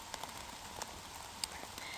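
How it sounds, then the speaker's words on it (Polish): Steady heavy rain falls in a forest on a downpour day, a dense even hiss with scattered sharper drops and no voices. "Deszcz nadal pada"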